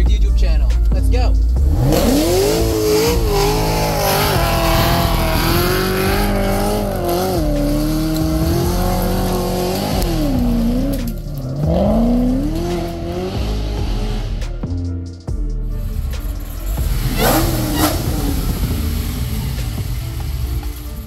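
A 1200-horsepower Chevy SS sedan's V8 engine revs loudly and continuously, its pitch rising and falling through repeated throttle blips, with brief dips before surging again.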